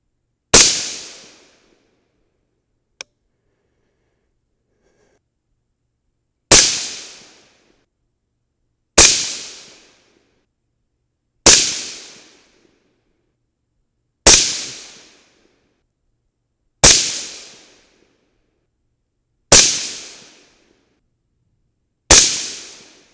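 Suppressed 5.56 rifle firing 69 grain Sierra MatchKing rounds, a series of eight sharp reports spaced a few seconds apart, each with a short decaying tail, loud and close with silence between shots.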